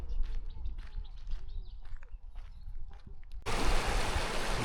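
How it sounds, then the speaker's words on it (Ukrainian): A river flows in the Carpathian mountains near Vorokhta, its broad rushing wash starting abruptly partway through and running loud and steady, with faint bird chirps and distant sounds beforehand. "Це річка."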